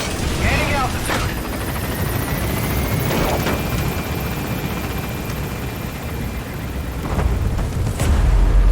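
The Pequod support helicopter in Metal Gear Solid V hovers and climbs with a loud, continuous rotor roar and engine whine, a thick steady drone with low rumbling thumps, while voices speak over it.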